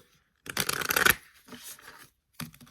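A quick riffle of tarot cards shuffled close up, a crisp burst of flapping followed by softer taps and a second short shuffle.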